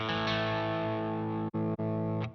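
Electric guitar through a simulated Marshall 4x12 cabinet on a Two Notes Opus: a held, heavily distorted chord rings out, broken by two quick mutes before a final accent.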